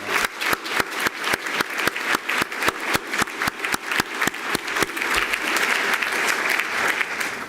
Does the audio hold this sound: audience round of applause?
yes